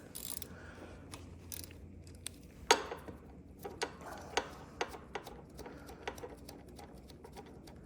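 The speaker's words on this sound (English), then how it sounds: "we're going to loosen our bleeder valve here." A bleeder valve with a copper washer being loosened on a 2009 Yamaha Raptor 700R ATV cooling system, heard as a series of close, small metallic clicks and taps at uneven intervals over a quiet background, without talk.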